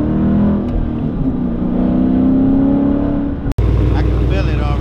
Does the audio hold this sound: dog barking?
no